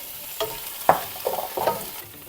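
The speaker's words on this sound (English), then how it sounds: "Let's go ahead and add in those lentils" Lentils tipped into a hot pan of sizzling garlic give a few soft scraping stirs and short spattering bursts over a low frying crackle, close and moderately loud.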